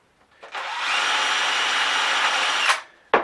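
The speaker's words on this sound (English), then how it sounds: "So you can take your drill and actually drill right through the front to see where they put the screw." A power drill bores through the front of a cabinet, one steady high whine lasting about two seconds that rises quickly, holds, then cuts off, close and clear.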